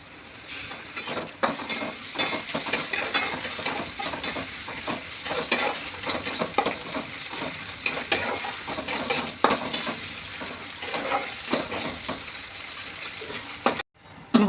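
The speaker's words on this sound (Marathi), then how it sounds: "तेलामध्ये कांद्यामध्ये मासल्या चांगल्या परतल्या की ओशाळवास येत नाही." Spices and onion sauté in hot oil in a pan with a continuous sizzle, broken by frequent scraping and stirring strokes of a spoon, close by and steady for the whole stretch.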